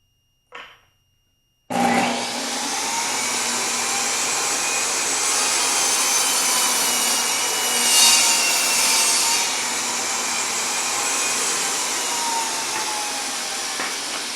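A saw cuts a quarter inch off a piece for a homemade phone stand: after a short silence, a loud, steady buzzing cut starts and runs unbroken to the end, with a brief swell partway through.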